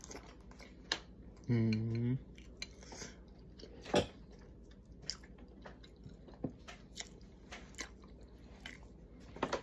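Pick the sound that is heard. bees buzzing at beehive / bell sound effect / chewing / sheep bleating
chewing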